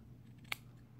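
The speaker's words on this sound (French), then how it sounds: "sans vouloir vanter les mérites de ces ciseaux-là, la façon que ça coupe" Small Coil Master scissors snip through vaping wick once, a single crisp close cut standing out against a quiet room.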